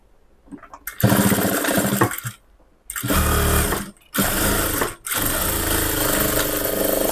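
A sewing machine stitching a lining blouse, running in loud, fast whirring bursts of a second or two separated by short pauses, close up with no talk.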